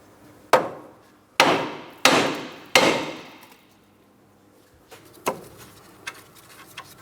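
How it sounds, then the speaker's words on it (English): Hammer tapping on the steering knuckle of a 2011-2026 Mitsubishi Outlander while separating the outer tie rod, four sharp metallic knocks at a steady pace followed by fainter, scattered taps, close and without talk. "If you happen to have a hammer, you can tap on the steering knuckle."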